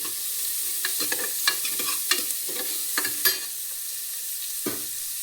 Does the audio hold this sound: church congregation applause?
no